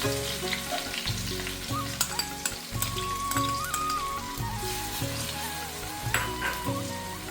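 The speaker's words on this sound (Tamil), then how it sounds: "எண்ணெய் காஞ்ச பிறகு கொஞ்சம் பூண்டும் சின்ன வெங்காயம் போட்டிருக்கிறேன்ல" Garlic and small shallots frying in hot oil, a loud crackling sizzle that goes on throughout over a pulsing low hum, with scattered pops and a faint tonal whine.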